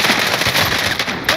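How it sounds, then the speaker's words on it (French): Shotgun fire rips through a Call of Duty Modern Warfare match, a loud, dense burst of crackling blasts filling the whole brief moment at close range. "Je l'ai déchiré au fusil à pompe!"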